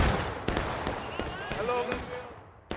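A rifle volley fires in the War of Rights Civil War game: several sharp musket cracks go off in a loose, uneven sequence at moderate distance, with shouted voices over the battlefield.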